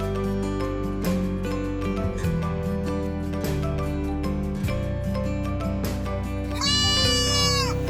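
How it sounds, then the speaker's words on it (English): A goat bleats near the end, a loud quavering cry that stands out over steady background music playing throughout. "Goat, goat."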